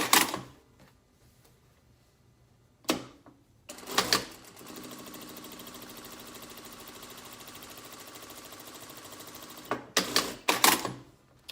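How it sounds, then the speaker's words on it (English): A sewing machine running a continuous seam along a pleated fabric face mask, with a steady mechanical whir of several seconds, framed by short bursts of stitching and clicks before and after. "I'm going to sew a 1/4 inch seam allowance from end to end"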